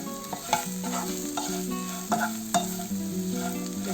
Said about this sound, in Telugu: 5 నిమిషాలు ఈ విధంగా కలుపుకుంటూ ఫ్రై చేసుకున్నాము